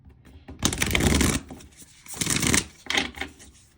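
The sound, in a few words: shuffling tarot cards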